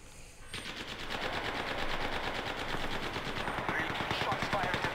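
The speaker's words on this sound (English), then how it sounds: "Shots fired at me." Rapid automatic gunfire from the battle royale video game Apex Legends, a dense, steady stream of shots running loud and continuous for the whole stretch after a brief quieter opening.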